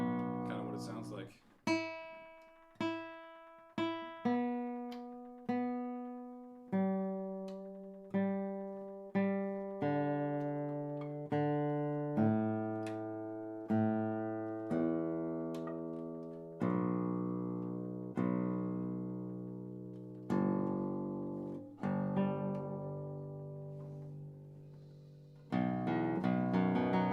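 Solo guitar plays a slow sequence of single plucked notes and chords, each ringing out and decaying before the next, clear and close with no talking.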